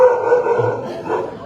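A dog gives a loud, close bark that trails into a brief whining yip, with no talk.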